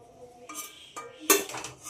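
Utensils clinking against a pot while boiled pumpkin and potato pieces are lifted out of the cooking water, a few light metallic knocks with one sharper clatter near the end, close and quiet with no talk.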